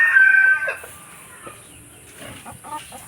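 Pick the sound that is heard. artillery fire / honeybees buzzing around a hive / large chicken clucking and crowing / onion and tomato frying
large chicken clucking and crowing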